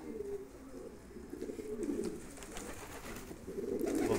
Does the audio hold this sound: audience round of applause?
no